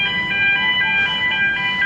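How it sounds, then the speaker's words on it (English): A loud, steady electronic buzzer aboard the MSC Seashore cruise ship drones with a pulsing tone, repeating in short regular swells over a low background hum. "Sorry about the loud buzzer."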